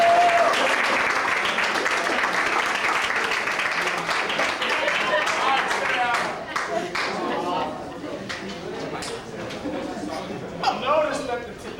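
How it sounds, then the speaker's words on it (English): A banquet audience at a 2004 Anthony High School baseball awards night gives a sustained round of clapping for the players' parents, dense and steady at first, then thinning and trailing off into scattered claps and murmuring voices. "Let's give our parents a round of applause."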